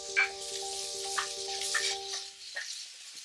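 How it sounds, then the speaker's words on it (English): Chopped mushrooms fry in hot cooking oil with a soft, steady sizzle and a few light stirring taps, under quiet sustained musical tones. "So now we're gonna add our chopped mushrooms."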